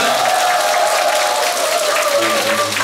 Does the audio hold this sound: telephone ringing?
no